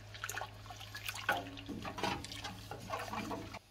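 Water sloshes and swirls close by as it is stirred in a basin for soaking kitchen towels, with steady liquid churning and splashing throughout and a low hum underneath.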